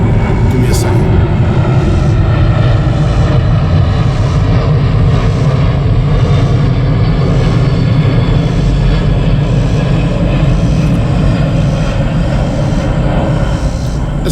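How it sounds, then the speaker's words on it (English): A big jet aircraft flying overhead near Washington, D.C. gives a steady, loud, broadband roar that holds through the whole stretch with no break. "I have a jet flying ahead."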